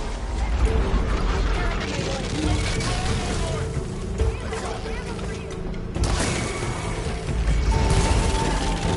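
Dense clanking, ratcheting and grinding from robotic machines closing in during a Horizon Forbidden West fight, loud and continuous, with impacts and muffled shouting voices mixed in.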